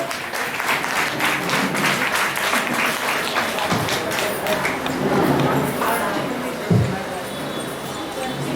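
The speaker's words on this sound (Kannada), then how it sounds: "ಬರ್ಲಿ ಚಪ್ಪಾಳೆ ಬರ್ಲಿ ಎಲ್ಲರೂ" An audience at a school anniversary and Kannada Rajyotsava event applauds on stage cue, sustained dense clapping filling the hall throughout, with a voice speaking over it.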